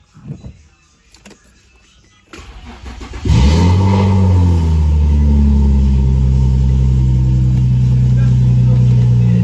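A V6 Infiniti G35 coupe engine cranks and fires, then settles into a loud, steady idle close by. Quiet handling noises come before the start.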